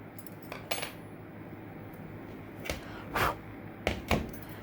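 Metallic clinks and scrapes as a freshly cast metal knife is pulled from a sand mould, a few sharp separate knocks scattered across a quiet background.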